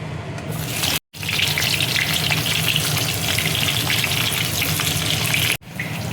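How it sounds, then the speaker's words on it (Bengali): Potatoes fry in oil left from frying onions, a loud, continuous dense sizzle that runs unbroken apart from two abrupt cuts to silence. "বেরেস্তার তেলেই দেখো আলুটা আমি এবার ভেজে নেব।"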